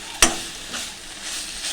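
Chopped banana stem (posola) fries in a pan, cooked village style: a steady, close sizzling hiss that opens with one sharp clack of a utensil, then softer swells of stirring.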